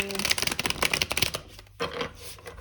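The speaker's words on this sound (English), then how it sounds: "we'll do one last shuffle" Tarot cards being shuffled by hand, a quick run of crisp riffling flutters that stops and then returns in a short second burst, close and fairly quiet.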